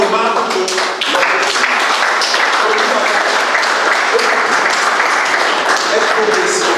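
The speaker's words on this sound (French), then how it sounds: "Donc applaudissons très fort encore pour nous." A large audience applauds loudly and continuously at a land-management training session in Yaoundé, dense sustained clapping filling the whole stretch with some voices mixed in.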